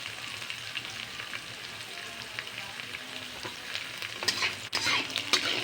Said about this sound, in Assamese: অলপ ৰংচোৱাকৈ ভাজি থাকিব লাগিব।